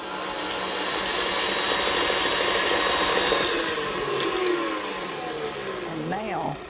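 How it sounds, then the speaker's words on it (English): An electric mixer beats cream cheese for a pumpkin roll frosting, a loud continuous motor whine that holds steady throughout, with the pitch wavering slightly near the end. "Now I'll take this over to the mixer and beat it."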